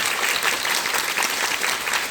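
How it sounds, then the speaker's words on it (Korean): Audience at a musical curtain call for the show Vanishing applauds an actor with steady, dense clapping that fills the whole moment, loud and continuous without a break. "큰 박수 부탁드리도록 하겠습니다"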